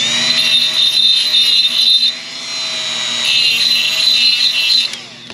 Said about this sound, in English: To deburr them, all I use is just a Milwaukee die grinder and a carbide bit set up.